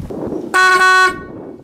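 A loud 12V marine horn blast lasting about half a second, steady and close, with faint background noise before and after.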